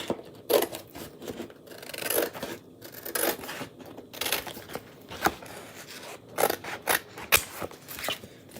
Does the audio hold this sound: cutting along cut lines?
yes